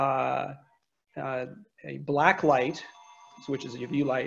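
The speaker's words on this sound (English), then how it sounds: "Sorry about my phone going off." A mobile phone goes off with a steady electronic ringtone that sounds between and beneath a person's ongoing speech during a classroom-style demonstration of optical brighteners glowing under UV light.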